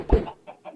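A Minecraft chicken gives a short run of clucks, one loud cluck first and then two softer ones, all close and clear with nothing else heard.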